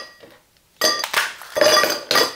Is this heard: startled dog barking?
no